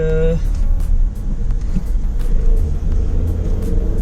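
A car drives a long road route to Beeman Falls in the Javadi Hills near Yelagiri, its steady low engine and road rumble running continuously at close range with little change.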